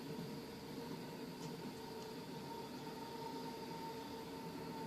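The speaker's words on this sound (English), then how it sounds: "there's a train going by, so you're going to hear that." A train passes in the distance behind a Ford F250 driving game on an icy arctic track, a faint steady rumble with a constant tone and a couple of brief clicks, no voices.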